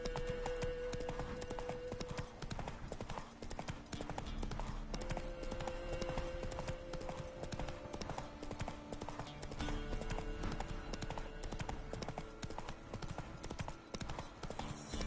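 Roach the horse gallops in The Witcher video game, rapid rhythmic hoofbeats clip-clopping steadily and close over a faint background with a brief tonal hum, and no voices.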